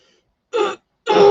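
A single throat clearing followed by a second, harsher throat-clearing burst, both close and fairly loud against a silent background.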